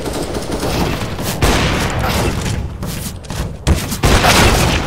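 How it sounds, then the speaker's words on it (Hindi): Gunfire in the video game CS:GO bursts in loud, dense volleys with sharp cracks and booms breaking through a constant roar of battle noise. "अब पांच गोलियां इसको मारी मैंने आपसे कसम से, पांचवी बार जाके मरा ये।"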